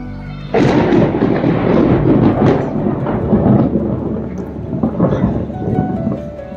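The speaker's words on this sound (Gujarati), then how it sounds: "જો વીજળીના કડાકા ભડાકા કેવા ચાલુ થઈ" Loud rolling thunder of a monsoon storm, the first rain of the season, rumbling continuously with heavy low booms and cracks from near onset, sustained throughout with no voices.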